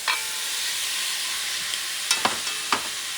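Giant shrimp sizzle steadily in a hot pan over heat just above medium, a broad continuous hiss broken by a few sharp clinks and scrapes as they settle and are moved.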